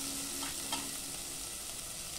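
Ginger garlic paste and spices fry in a pan, making a continuous close sizzle with a faint bubbling undertone. The level stays even throughout.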